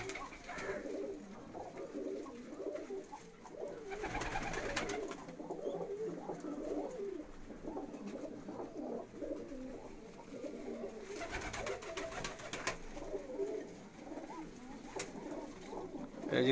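Rampuri pigeons coo in soft, repeated rolling calls from a home loft in Alipur Syedan, several birds overlapping at close range, with a faint hiss swelling in places.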